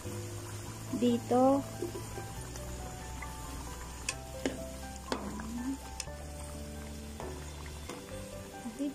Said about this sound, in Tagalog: i-add na natin yung kalabasa kasi pwede na rin siya para mabilis lang kasi lumambot yung kalabasa